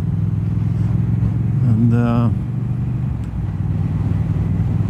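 Triumph Speed Twin 1200 motorcycle engine running under jerky throttle: a steady close low twin-cylinder rumble, with a brief rising tonal whine around the middle and faint talk.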